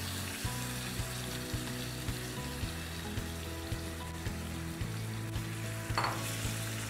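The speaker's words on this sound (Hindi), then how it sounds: "अब ये चिकन जो है हम डाल देते हैं ऑयल के अंदर" Chicken pieces dropped into hot oil fry with a steady, close sizzle and crackle, punctuated by regular soft knocks that repeat every half second or so, with a brief louder burst near the end.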